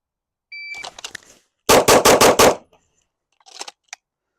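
Five pistol shots go off in a quick, evenly spaced string during a competition shooting drill, loud and close. Faint beeps from a shot timer come before and after them.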